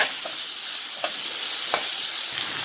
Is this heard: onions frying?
yes